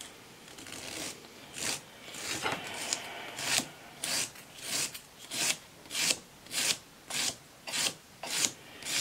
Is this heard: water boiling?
no